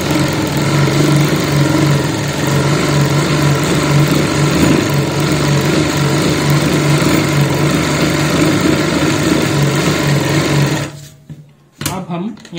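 Sewing machine stitching fabric and a buckram piece for a jute sack doormat, a loud, steady mechanical whir running continuously before stopping abruptly near the end, followed by a few brief handling clicks.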